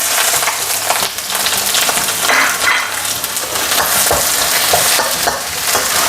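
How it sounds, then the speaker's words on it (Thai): Loud, continuous sizzling of Thai-style eggs with sour pork sausage (nam) frying in a hot pan, with steady scraping and tossing as ingredients are stirred. "จากนั้นก็ผัดให้เข้ากันนะครับ"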